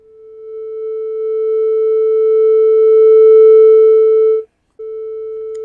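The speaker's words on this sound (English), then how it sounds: "There's our sine wave." A steady pure electronic tone with faint overtones swells slightly, cuts out briefly near the end, then resumes at the same pitch.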